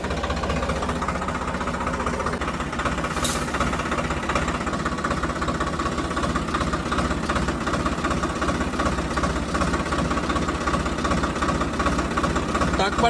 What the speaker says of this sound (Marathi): आता मी बसलो ट्रॅक्टरवर, मागे घेतो.